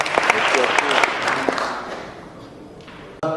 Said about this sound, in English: How about a big round of applause for Lee Labrada.